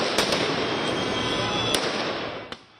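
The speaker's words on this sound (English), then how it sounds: "The demonstrators were seen aiming fireworks at the officers" Fireworks fired at police during a street protest in central Tbilisi: a few sharp bangs and cracks pop out of dense, continuous crowd and street noise, then the din fades near the end.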